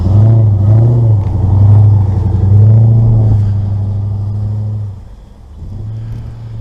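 Vehicle engine revving hard and droning loudly up close while accelerating up a snowy hill, with the pitch rising and falling, then easing off before picking up again near the end.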